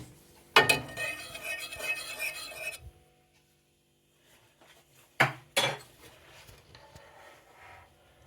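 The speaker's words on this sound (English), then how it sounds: "Let's give it a stir and see if it's done." A utensil stirs food in a dish just taken from a Russell Hobbs compact microwave, giving two short bursts of close, loud scraping and clinking separated by a quiet pause.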